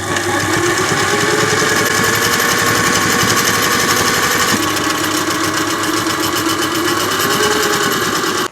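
A well-kept sewing machine runs steadily at close range, a fast, continuous mechanical whirr with a rapid stitching rhythm that shifts slightly in pitch midway.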